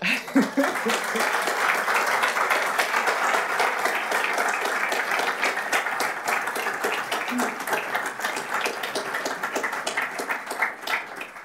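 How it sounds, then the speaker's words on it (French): An audience at a university opening ceremony applauds the award winners with dense, sustained clapping, loud and close, with a few scattered chuckles mixed in. "Je pense que vous pouvez applaudir."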